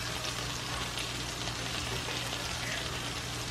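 Butter and a little oil sizzle steadily in a pan, a soft, even crackle and hiss that holds throughout with a faint low hum beneath.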